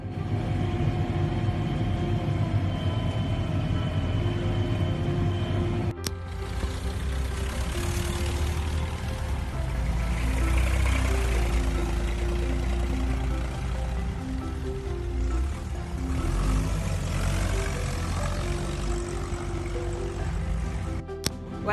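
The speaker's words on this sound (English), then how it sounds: "it's been a fantastic tractor run so far" Tractor engines rumble steadily during a tractor run in Cwm Risca, a loud continuous low drone with a sharp change in tone partway through and no talk over it.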